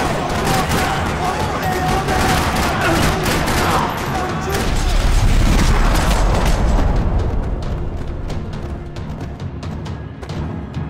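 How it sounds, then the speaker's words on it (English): Rapid, sustained gunfire rattles continuously with heavy booms and loud bursts layered throughout, dense and close, a chaotic firefight in a parking lot in the video game Max Payne 3. "Another parking lot rattling with gunfire."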